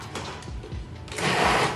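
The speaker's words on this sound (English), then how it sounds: "There's every reason to use a food processor because it'll do the work for me." A food processor pulses black beans for burgers, with a few short whirring bursts followed by a louder, sustained grinding run near the end, close and with no talk.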